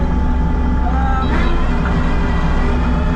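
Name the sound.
machine engine running at about half throttle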